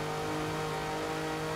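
A Jeep's engine revs steadily in the racing game Forza Horizon 4, a loud, sustained mid-pitched drone with no talking over it.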